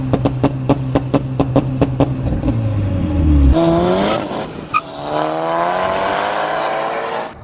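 A VW MK5 GTI track car with a modified turbo buzzes with rhythmic revving, then roars past close by with a burst of tire squeal before fading into continued engine drone.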